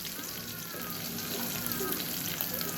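Chopped onions sizzle steadily in hot oil in a home kitchen pan, a continuous close frying hiss with faint crackles throughout.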